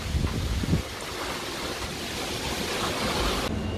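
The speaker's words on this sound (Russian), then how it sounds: "Шторм." Storm wind roars beside a roadside market in Almaty, a steady broadband rush with gusty buffeting against the microphone, close and continuous without talk.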